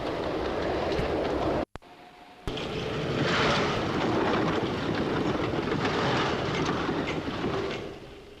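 Trains on a 1940s railway rumble steadily past automatic signals, a loud continuous roar with faint rhythmic clatter, broken by a brief cut before the noise swells again and fades slightly at the end.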